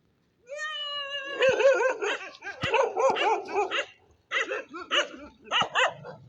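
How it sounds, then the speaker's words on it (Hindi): Dogs greeting a newcomer at a seaside spot in Porbandar bark and yip in a close, loud flurry of repeated barks, the first starting with a rising whine, with short pauses between bursts. "ये हैं कुत्ते जो हमारा स्वागत कर रहे हैं।"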